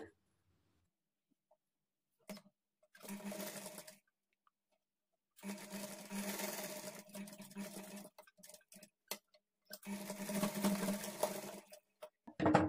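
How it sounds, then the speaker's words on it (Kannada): A sewing machine stitches along the folded edge of a lehenga blouse in bursts of steady whirring, with short silent pauses between runs and a few faint clicks. "ಈಗ ಇದನ್ನು ಒಳಗಡೆಗೆ ಫೋಲ್ಡ್ ಮಾಡಿಕೊಂಡು ಸ್ಟಿಚ್ ಮಾಡ್ಕೊಳ್ಬೇಕು"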